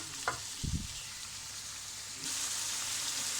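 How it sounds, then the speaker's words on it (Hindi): Chicken frying in an open karahi for a restaurant-style white karahi, a steady soft sizzle with a few quiet clinks near the start, the hiss growing brighter and fuller toward the end, with no talking. "ये देखिए मेरा चिकन फ्राई हो रहा है।"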